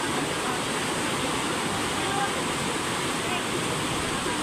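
Floodwater overflowing at a bridge rushes past as a loud, continuous roaring wash with no breaks, filling the whole scene like a nearby torrent.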